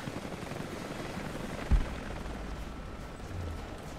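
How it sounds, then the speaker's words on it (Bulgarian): Helicopter in the video game Rise of the Tomb Raider, heard as a continuous, distant, rumbling drone, broken once by a single sharp thud partway through. "То хеликоптер от време на време доста ме притесня."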